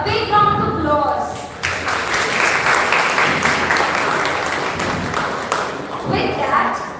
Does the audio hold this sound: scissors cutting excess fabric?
no